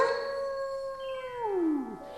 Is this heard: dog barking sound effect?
yes